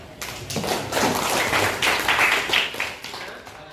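Applause in a classroom: a group of students clap together for a few seconds, a dense, fairly close patter of hand claps.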